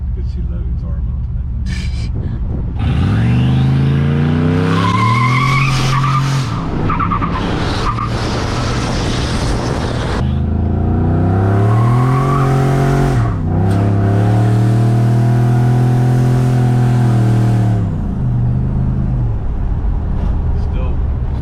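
A 600HP turbocharged GMC Yukon doing a tire burnout, loud engine revving in rising and falling sweeps with screeching tire skid, close and sustained, while people talk over it.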